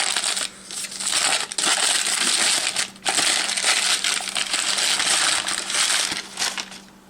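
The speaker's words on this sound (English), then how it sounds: "take off the paper" Paper wrapping torn and crumpled off a Hellraiser puzzle box package, a loud close continuous rustle and crinkle with brief pauses, no talking.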